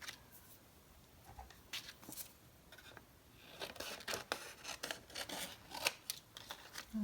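Scissors snip through paper while cutting out scrapbooking elements for a Christmas December Daily project, a quiet close series of irregular cuts that grow more frequent in the second half, with no talk.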